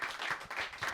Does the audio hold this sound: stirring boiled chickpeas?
no